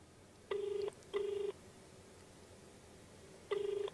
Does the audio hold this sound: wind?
no